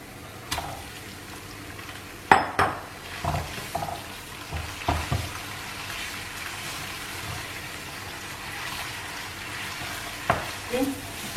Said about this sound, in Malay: bila bawang putih ni dah wangi, dah agak kekuningan, kita masukkan daging kisar kita